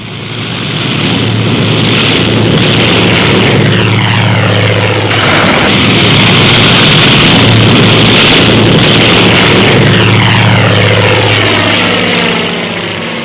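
World War II propeller planes of Task Force 58 take off from an aircraft carrier in heavy seas in 1945, their engines a loud, close, continuous drone that swells and fades as each aircraft passes.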